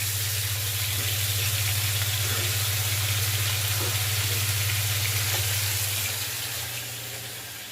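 Tilapia and coral fish fry in a pan with a steady, close, loud sizzle and crackle that holds evenly throughout, with a constant low hum underneath and no voices.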